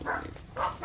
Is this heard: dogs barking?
yes